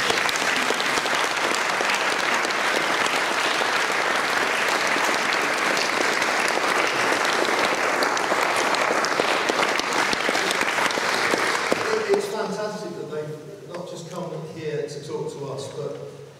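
Sustained applause from a lecture audience at a Brexit discussion meeting, loud and dense for about twelve seconds before thinning out, with a voice starting to speak as the clapping fades.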